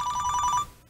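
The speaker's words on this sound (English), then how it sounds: "somebody's trying to call me when I'm doing a freaking video here" A phone rings with an incoming call in a fast electronic trilling pattern, loud and close, then cuts off abruptly near the end.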